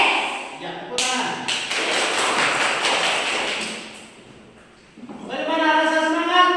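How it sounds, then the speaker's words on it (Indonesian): Children clap their hands in a church-school morning gathering, a burst of dense, rhythmic patting that fades, then gives way to voices of children singing or calling out near the end. "Ya, tepuk tangan."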